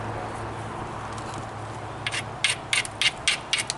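Flintknapping on a rhyolite edge, a series of sharp close clicks and taps striking the stone over a steady background hum, the strikes coming in quick succession toward the end.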